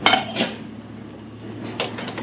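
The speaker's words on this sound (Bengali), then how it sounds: "থালা বাসনগুলো বেরোচ্ছে" Metal plates and kitchen utensils clatter and clink together close by, a few sharp bursts of ringing contact over a low background hum.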